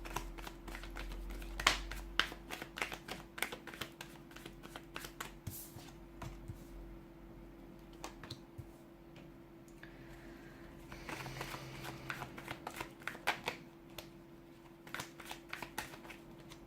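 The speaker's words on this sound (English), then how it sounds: "give the cards a shuffle and begin" A deck of tarot cards gets shuffled close up, with quick riffles and soft slaps coming in irregular bursts, followed by shuffling and light taps that go on through a quiet room.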